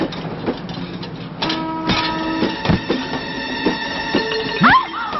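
A moving passenger train rolls along with a continuous rattling rumble, sharp clacks of the wheels and a steady metallic hum running through it.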